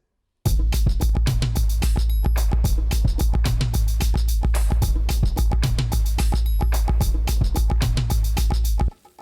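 Punchy drum loop with a main kit section and a layered percussion part, including claps, hitting in a fast steady rhythm with heavy low kicks, loud and continuous until it stops abruptly near the end.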